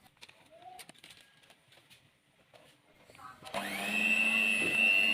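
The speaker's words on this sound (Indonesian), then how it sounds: "Aduk kembali menggunakan mixer dengan kecepatan rendah saja" An electric hand mixer starts up partway through, beating cookie dough at low speed with a steady whirring drone that holds loud and close to the end. Before it, quiet kitchen clatter and small knocks.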